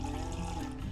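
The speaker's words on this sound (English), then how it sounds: "I'm measuring 90 gram of distilled water." Distilled water poured steadily into a container on a scale for a plant-water pH solution, a faint continuous trickle and splash lasting under a second with no talk.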